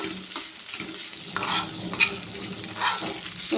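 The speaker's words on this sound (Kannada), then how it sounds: "ನೋಡಿ ಇದು ಎಣ್ಣೆಯಲ್ಲೇ ಸ್ವಲ್ಪ ಫ್ರೈ ಆಗ್ಬೇಕು ಬೆಂಡೆಕಾಯಿ ಮೆಣಸಿನ್ಕಾಯಿ ಉಪ್ಪು ಖಾರ" Okra and green chillies frying in oil in a pan while being stirred, a soft continuous sizzle with several scraping stirs of the spoon, close and without talking.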